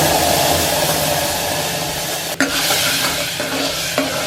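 Cumin and turmeric sizzle in hot oil in a steady, loud, close hiss, broken by a couple of sharp clicks or knocks from a utensil.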